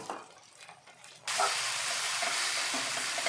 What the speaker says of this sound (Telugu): ఇలా బాగా ఉడికి ఆయిల్ అంతా సపరేట్ అయ్యే వరకు మనం గోంగూరని ఫ్రై చేసుకోవాలి.